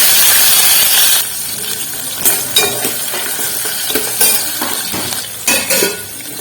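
Mustard seeds crackling and popping in hot oil while tempering for a sagu curry to go with poori, a loud hiss at first, then sharp irregular pops and spatters close by.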